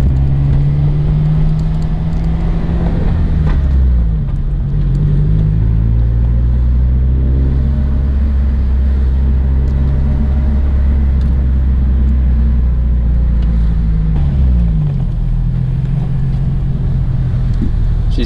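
Subaru BRZ fitted with an HKS turbo kit creeps along at low speed, its engine a steady loud rumble with a couple of brief rev changes, heard close from inside the cabin.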